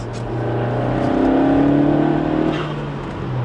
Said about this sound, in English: that blow-off valve is pretty loud to me. I can imagine you guys probably hear it